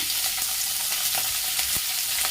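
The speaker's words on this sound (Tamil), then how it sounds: "நல்லா இதெல்லாம் கடலைப்பருப்பு போட்டு நல்லா வதக்கிட்டிங்க" Chana dal sautés in a hot pan, giving a dense continuous sizzle with soft stirring scrapes throughout.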